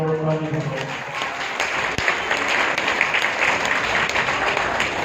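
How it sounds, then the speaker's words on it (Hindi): A crowd at a Bhagavat Katha gathering in Bhajanpura, Delhi claps in sustained applause that fills the room and continues evenly throughout. "तुम लोगों ने खूब ताली बजाई"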